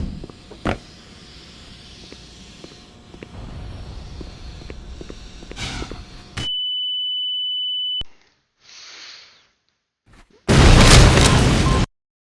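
An explosion in the Black Mesa Half-Life remake: a sharp early pop and a run of crackles, then a sustained pure electronic tone, a short muffled burst and a loud final blast that cuts off abruptly.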